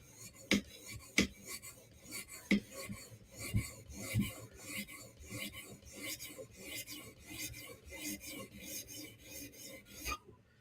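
A knife blade being sharpened with forward strokes on a sharpening stone, a series of rasping scratches with sharp onsets, close and fairly quiet, repeating irregularly over about ten seconds before stopping.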